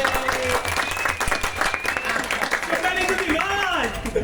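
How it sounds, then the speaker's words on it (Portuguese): Applause from a podcast studio audience greeting a philosophy teacher guest, steady clapping filling the moment with a voice talking over it. "Uma salva de palmas para ele."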